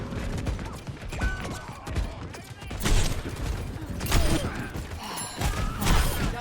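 Rapid gunfire bursts and mechanical weapon clatter from an Overwatch 2 match come in repeated volleys with heavy thuds, while voices talk over the action.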